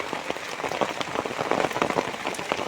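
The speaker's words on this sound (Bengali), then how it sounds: "প্রচুর বৃষ্টি হচ্ছে" Heavy rain pours down during a Kalbaishakhi storm over rice fields in rural Bangladesh, a dense, constant patter of drops hitting surfaces nearby, loud and unbroken, with no speech.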